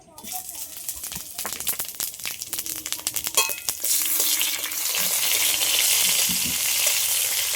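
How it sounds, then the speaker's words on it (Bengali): Panch phoron, dried chilli and bay leaf hit hot oil with a burst of crackling and popping that settles into a steady, loud hiss of frying. "ফোড়নে দিয়ে দিচ্ছি পাঁচফোড়ন শুকনো লঙ্কা তেজপাতা"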